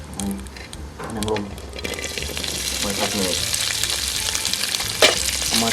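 Meat frying in a pan for a Thai oyster dish, a steady crackling sizzle with stirring scrapes, under faint background voices.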